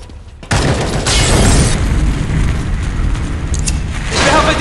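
A grenade blast in a Bloody Winter team deathmatch video game, a sudden loud boom that cuts in after a short quiet lead-in and rolls into a long sustained rumble with scattered crackling debris.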